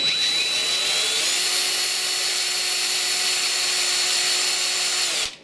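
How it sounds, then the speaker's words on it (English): A drill fitted with a regular bit bores out a bolt on a Famco 50A punch press, giving one close, loud, unbroken whine that holds steady for about five seconds before cutting off abruptly. "So let me just get a regular bit and we'll just try drilling it out."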